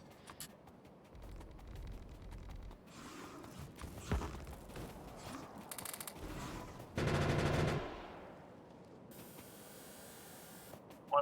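Gun turrets in Factorio fire at worms. Bursts of rapid mechanical gunfire come in short clusters, with one long, dense rattling burst near the middle, set against quieter game-world noise.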